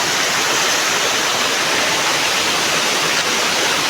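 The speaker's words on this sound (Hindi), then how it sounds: "देखिए गाइस, ये हमारा वाटरफॉल है, ये टॉप का है" A waterfall at Dongarpadar in Tumudibandha block roars steadily and close, a dense, unbroken broadband rush of falling water filling the whole clip with no voices.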